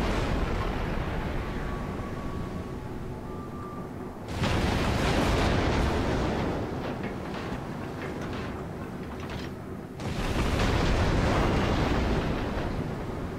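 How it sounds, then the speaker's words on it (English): Naval battle in a video game, with a steady roar of gunfire and shell blasts. Two loud bursts of explosions dominate, one from about four seconds and another near the end, over a rumbling background. "He's just shooting you apart, isn't he?"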